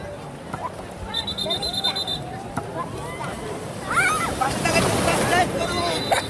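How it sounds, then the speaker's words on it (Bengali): Waves break and wash along the beach at Cox's Bazar, a broad surging rumble with wind, under a lively crowd of voices, shouts and chatter, with the surf growing louder toward the end. "ঢেউ ঢেউ ঢেউ ঢেউ"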